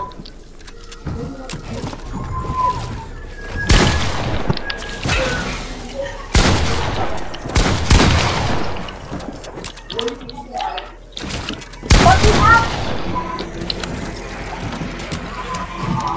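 Bursts of gunfire in the video game Fortnite, several loud sharp volleys spaced irregularly through the stretch, mixed with game noise and occasional talk.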